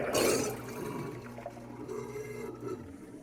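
A dishwasher draining after a cleaning cycle with cleaning chemicals inside: a rushing, gurgling surge of water that settles into a steady churning drain with low hum and faint trickles, fairly loud and close, no voices.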